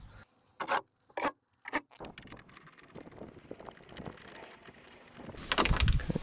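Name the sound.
fitting bolts to hold VW Polo Mk4 door lock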